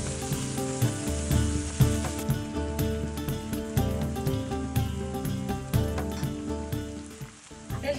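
Steady sizzling from meat searing in a hot pan, crackling and spitting continuously with occasional clinks, under faint background music.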